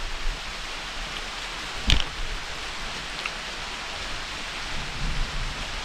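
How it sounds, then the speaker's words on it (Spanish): Rain beginning to fall outdoors during a storm, a constant broadband hiss with one sharp, loud crack near the start and faint low rumbles later. "Ya empezó la lluvia."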